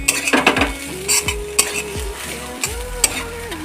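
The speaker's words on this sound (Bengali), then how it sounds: "এবার ডিমটাকে ভালো করে ঘুটে নেব ঝুরি করে নেব" Egg being scrambled in a pan for Maggi noodles: brisk, repeated scraping and clinking of a utensil against the pan over a light frying sizzle, close up.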